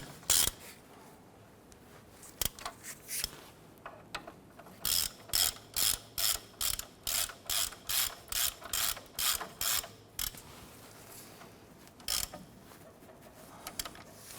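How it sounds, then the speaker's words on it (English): A ratchet snugs down the brake caliper bracket bolts on a 1993-1997 Ford Ranger front brake job, in a long run of about fifteen crisp, evenly spaced clicking bursts after a few scattered clicks, close up and with no talk. "Gonna go ahead and snug down our bolts here."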